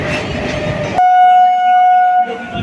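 A Howrah to Jayrambati local train rumbles close by, then a loud, steady horn blast sounds for just over a second before the rolling noise of the train returns.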